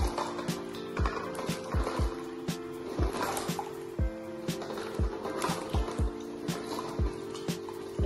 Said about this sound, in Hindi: पानी गर्म है तो आराम से डाल रहे हैं।